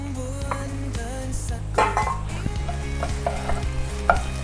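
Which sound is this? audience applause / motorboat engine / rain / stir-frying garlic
stir-frying garlic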